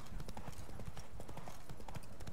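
Steady clip-clop of horse hooves while riding in Witcher 3: Blood & Wine, a brisk repeating gallop rhythm heard up close with no talk over it.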